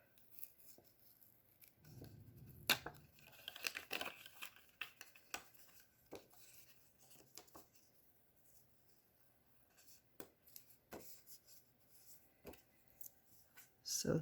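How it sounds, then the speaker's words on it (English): Tape peels off paper while a Christmas card is being made, heard as quiet scattered rips and crinkles separated by near silence, faint and close. "Now if I can get the tape off."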